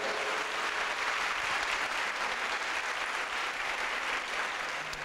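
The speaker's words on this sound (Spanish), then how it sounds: "Los invito para que con un aplauso que retumbe recibamos a Sara Winter esta noche." A crowd in Medellín claps to welcome speaker Sara Winter, an even, sustained roar of many hands at moderate distance that holds steady throughout without any talk.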